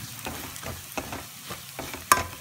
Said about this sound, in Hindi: इसको हम थोड़ा सा भून लेंगे